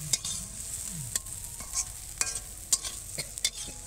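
Pea pod peel paste frying in oil over low heat with turmeric and garam masala, a soft steady sizzle broken by irregular scraping stirs of a spoon, close and fairly quiet.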